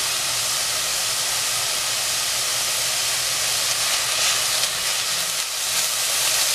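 Garlic sizzling in garlic-infused olive oil for tomato basil soup, a loud, steady, broad hiss that stays constant throughout with only slight swells, close up and with no talking.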